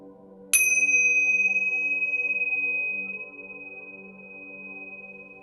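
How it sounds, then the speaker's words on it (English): A single bright chime rings out and slowly decays over a soft, steady low drone, the tone lingering for a few seconds. "You're going to hear 3 chimes."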